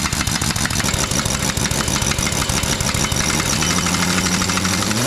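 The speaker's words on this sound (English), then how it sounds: "the air compressor is running because we use that much air" An air compressor runs steadily in a truck shop during brake and stuck-nut work on an International 4700 truck, giving a loud, continuous mechanical drone with a pulsing engine-like knock throughout and no speech.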